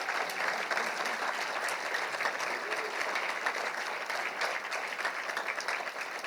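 Sustained applause from an audience honoring Hall of Fame inductees at a Bulldogs Athletics ceremony, steady and dense throughout with no talking.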